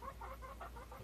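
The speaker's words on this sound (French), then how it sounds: "Oh les poules!" Hens cluck in soft, repeated bursts, a steady run of short calls at moderate distance over a low background hum.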